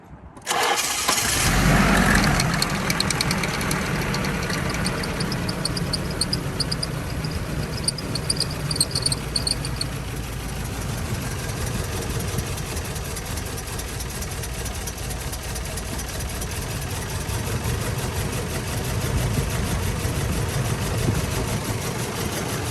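A Nissan 240SX engine cranks and catches after a coolant refill, then settles into a steady, loud idle that runs on alone for about twenty seconds.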